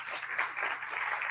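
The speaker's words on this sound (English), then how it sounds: "Give him applause here." An audience at a university cyber-security panel applauds in a soft, steady patter of clapping that lasts about a second and sounds some distance away.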